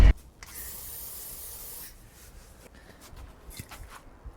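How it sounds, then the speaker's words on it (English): Silicone spray hisses from a can onto a campervan floor in one steady burst of about two seconds, followed by quieter rubbing and shuffling sounds with faint knocks. "Can confirm it literally was just needing some silicone spray."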